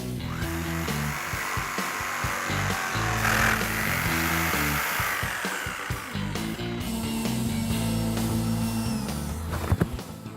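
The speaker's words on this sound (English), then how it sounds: "We're going to grab the jigsaw and cut them out." Power jigsaw cutting curved pieces out of wooden board for a kids' bowling lane project, a steady buzzing cut running close and loud throughout with shifting pitch as the blade works through the wood.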